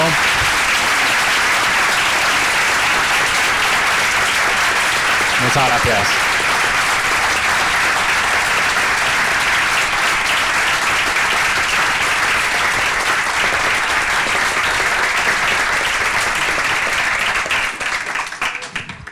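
Loud, sustained applause from a crowd fills the whole stretch, steady throughout before thinning slightly at the end; a voice briefly speaks over it.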